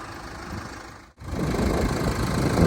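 A 2014 KIA Sorento engine idles steadily at close range, a low continuous rumble with a brief drop in level partway through before it returns louder.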